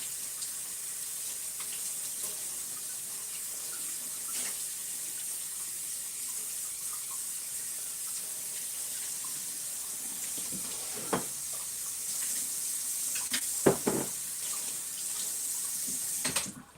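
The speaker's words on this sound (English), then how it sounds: "I just gotta make sure by rinsing it again." Clean glass jars rinsed under a running kitchen tap, a steady close hiss of flowing water throughout, with a few brief clinks and splashes of the jars near the end.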